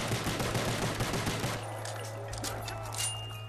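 Rapid gunfire in the Nazi Zombies game rattles loud and fast for about a second and a half, then gives way to a steady hum and scattered lighter shots.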